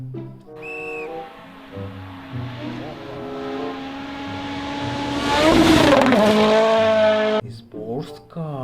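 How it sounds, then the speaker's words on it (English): An animated sports car revving and racing past, engine tones rising and sweeping to a loud peak before fading, with whistling tonal sounds and cartoon music around it. "sports car."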